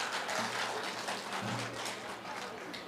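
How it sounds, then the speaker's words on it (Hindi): Applause at a reception for a retired chief engineer, a continuous, moderately loud wash of clapping from a gathered crowd with a low hum and faint voices beneath. "जोरदार तालियां हो जाए।"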